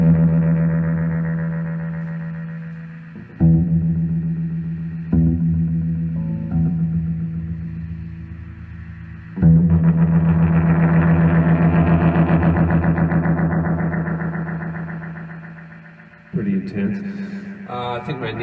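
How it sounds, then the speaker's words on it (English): A WE 200 Denken digital echo chamber used as a guitar and vocal effect, giving sustained droning tones that repeat and swell in waves with distorted, oscillating feedback, alone and fairly loud. "Anyway, there it is, digital echo."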